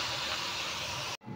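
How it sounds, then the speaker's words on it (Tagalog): Daing na bangus, split dried milkfish, fries in hot oil with a steady, even hiss that holds at one level before cutting off abruptly near the end. "Tapos yung prito nating daing."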